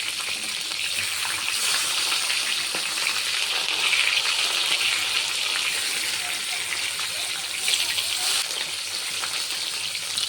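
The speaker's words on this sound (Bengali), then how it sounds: "আর দুটি কাতলা মাছের পিস ভেজে নিচ্ছি" Catla fish pieces sizzle in hot oil in a home kitchen, a steady bright crackle and hiss holding for several seconds with small spitting pops, no voices over it.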